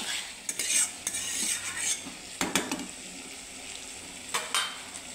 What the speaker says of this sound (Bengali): তো এটা আরেকটু আমি নেড়ে নেব।